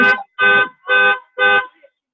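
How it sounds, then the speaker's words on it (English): A car horn honks in a parking lot: four short, evenly spaced blasts, loud and close, with nothing else around them. "I know someone's honking at Dr. Keisha"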